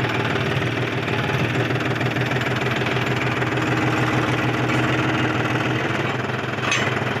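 A farm tractor's engine idles nearby with a continuous low, knocking chug and a rhythmic vibrating throb, steady and loud with no voices.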